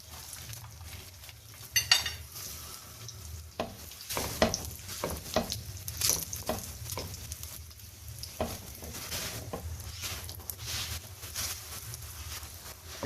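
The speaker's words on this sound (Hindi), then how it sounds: "इसको अच्छी तरह फ्राई करना है।" A sweet halwa paratha fries in plenty of desi ghee in a pan, giving a steady close sizzle with occasional utensil scrapes and clinks as it is turned.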